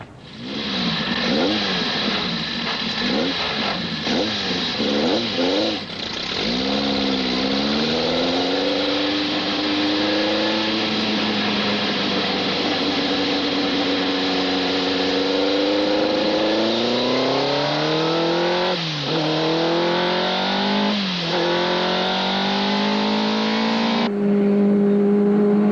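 A 1980 touring car engine drives and accelerates, loud and close throughout, with repeated rising revs as it climbs through the gears and brief dips between shifts.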